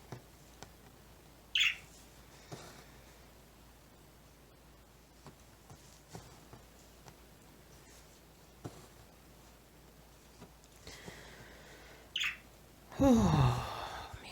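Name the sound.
pet birds chirping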